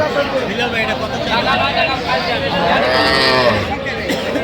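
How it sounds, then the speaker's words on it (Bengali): A cow with her calf moos at a busy cattle market in Aftabganj, long wavering moos rising over a steady crowd babble, close and loud, with people bargaining and talking nearby. "বেশ সুন্দর গাভী বাছুর।"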